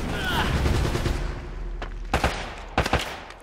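Gunfire from an M14 rifle in the video game Uncharted: Drake's Fortune, a few sharp shots in quick pairs over a steady game background, with a voice briefly heard.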